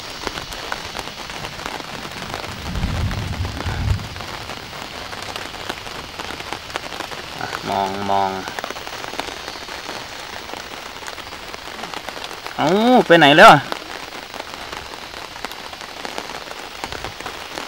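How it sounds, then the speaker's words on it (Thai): Rain falls steadily on open grassland at Khao Yai, a soft continuous patter while people speak briefly and a few short calls rise over it. "หาที่หลบฝนครับฝนตก"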